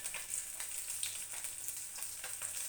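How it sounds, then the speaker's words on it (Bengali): Tatkini fish frying in hot oil, a steady close sizzle with soft crackles throughout and no voices. "এখানে টাটকিনা মাছ ভেজে নিচ্ছে"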